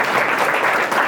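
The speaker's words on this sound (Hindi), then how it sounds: "उनके लिए भी तालियां होनी चाहिए।" An audience at the Ahimsa Vegan Festival 2023 in Ahmedabad applauds the organisers, Vegans of Gujarat, with a loud, dense, even burst of clapping filling the room, without speech.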